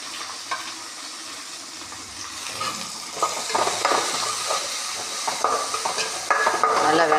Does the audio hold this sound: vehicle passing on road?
no